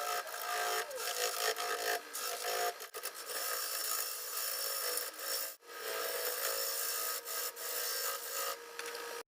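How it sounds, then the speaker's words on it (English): Sanding the bottom of a turned wooden root ball bowl on a lathe, a continuous loud abrasive rasping hiss with brief dips as the sander shifts, no talking. "Sand this bottom out while I still have a chance to."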